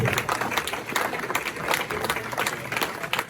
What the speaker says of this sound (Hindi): तो आपकी भरपूर तालियों में